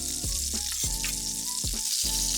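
Meatballs frying in a pan, with a steady loud sizzle and a few soft knocks as they are rolled around while cooking.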